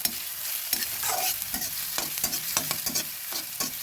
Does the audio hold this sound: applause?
no